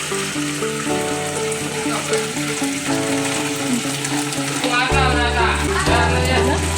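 Fried chicken pieces tipped into a hot pan for chicken 65, a loud broad sizzle and crackle under steady music, with stirring scrapes and splashy bursts toward the end.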